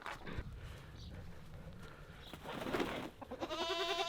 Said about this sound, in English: It's a bad pigeon.